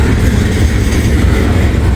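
A CSX freight train rumbles past close by, a steady loud low roar of rolling wheels and cars with no pause.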